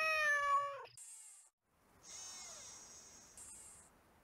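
Robotic cat meowing in the video game Nancy Drew: Shadows at the Water's Edge, a clear harmonic meow followed after a short pause by a second drawn-out synthetic mewl, close and isolated.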